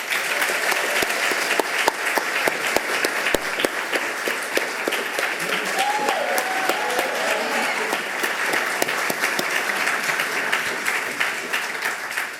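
Sustained audience applause fills an auditorium in Accra as guests are welcomed on stage, dense steady clapping from a large crowd lasting throughout without letup.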